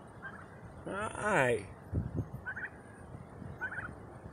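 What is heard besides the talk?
baby pet turkeys gobbling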